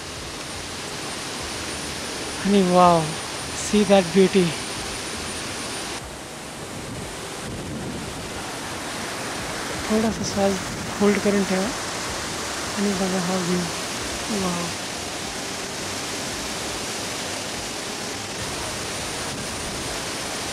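Devkund waterfall in the Tamhini Ghat pours down in a continuous broad roar of falling water and spray, with wind buffeting the mic, while a person speaks briefly over it.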